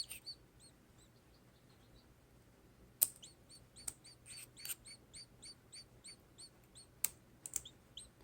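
High, thin peeps from a chick inside a hatching egg repeat in quick bursts, close and soft, with occasional sharp taps and clicks as the shell is chiseled, against a quiet background.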